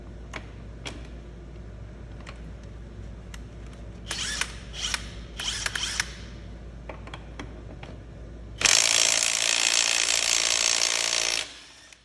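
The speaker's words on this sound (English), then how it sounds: "First up is the Klein 1/2-inch impact." A Klein 1/2-inch impact wrench removes fasteners. Scattered clicks and short mechanical bursts come first, then a loud close hammering burst lasts about three seconds before stopping abruptly.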